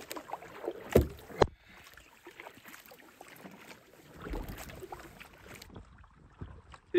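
Canoe paddling across a lake in Algonquin's backcountry in autumn: soft splashes and gurgling water strokes at a steady, unhurried pace, close by, with a couple of sharper knocks of the paddle against the hull and light wind noise.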